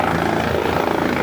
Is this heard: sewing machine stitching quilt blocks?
no